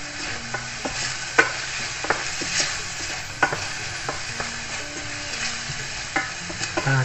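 Minced meat fries for a homemade skillet pizza in a nonstick pan, a steady close sizzle broken by repeated scraping and tapping of the spatula as it is stirred, with no talking.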